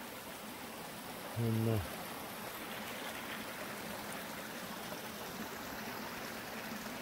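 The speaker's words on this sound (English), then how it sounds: "there's a bunch of these creeks like this that go to that lake from up here" Mountain creek in West Virginia flowing over rocks toward a lake, a steady broadband wash running the whole time, with a brief spoken word near the start.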